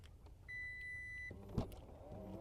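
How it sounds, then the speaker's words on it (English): The hands-free power tailgate of a 2022 Lexus UX 250h opens with a steady electronic beep, followed by a soft motor whir and a brief thump, quiet and close. "It's going to be a hands-free power tailgate. So just kick your foot under the bumper to open up."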